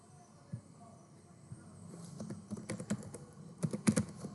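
Soft clicks on a computer keyboard as a short word is typed, quiet and close, with the keystrokes growing denser toward the end over faint background hum.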